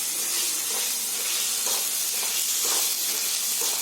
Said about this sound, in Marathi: अद्रक लसूणची पेस्ट टाकते आणि ती जरा आहे ना चांगली फ्राय करून घेते